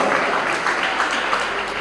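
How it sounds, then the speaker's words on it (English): Audience at a schools debate championship final clapping steadily for a finalist, a dense sustained applause filling the room without a break. "Round of applause, please. Don't stop clapping."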